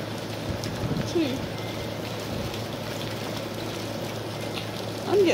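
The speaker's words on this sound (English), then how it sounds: "Hey, it's raining!" Rain falls steadily outdoors by an open door as a storm arrives, a continuous broadband patter that stays even throughout with a slight swell near the end.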